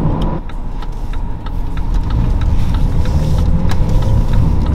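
A 2018 BMW X4 engine pulls steadily under acceleration, a loud continuous drone heard from inside the cabin with road noise, building slightly in intensity over a few seconds.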